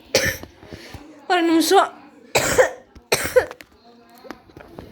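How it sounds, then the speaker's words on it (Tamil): Several harsh coughs in short bursts from a person at a microphone during Minecraft play, with brief speech in between. "எப்பா அந்த இருமல் வேற"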